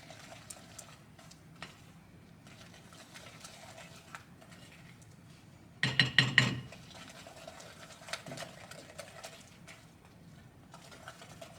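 Egg being mixed into creamed butter-and-sugar batter in a bowl, a short burst of rapid scraping clatter from the beater or spoon lasting under a second amid quiet kitchen background.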